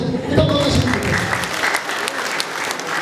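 A wedding audience in Rwanda applauds the bride, with dense, steady clapping from a crowd that holds loud for the first second and a half, then stays even a little lower.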